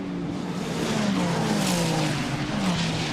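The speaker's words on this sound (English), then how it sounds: "The cars sound and look utterly awesome here." Ferrari Challenge race cars lap the Balaton circuit, engines howling through shifting pitches as they pass, with a faint squeal of tyres, heard at moderate distance without talk.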